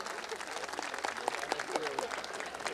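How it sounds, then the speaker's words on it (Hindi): An audience clapping at a kavi sammelan poetry gathering, a dense burst of crowd applause that is loud and sustained, with voices mixed in beneath the clapping. "एक बार जोरदार ताली अपने लिए बजाइए आप लोग।"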